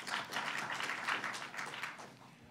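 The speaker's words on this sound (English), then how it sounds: "So I'd like to give him a round of applause." Round of applause from an audience at a New York governor's event for a Congressman, clapping steady and moderately distant throughout, fading slightly toward the end.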